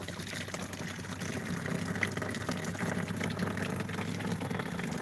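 Cold water flows steadily into a solar hot water system, a continuous rushing, gurgling stream with a low mechanical hum underneath that grows slightly louder after the first second.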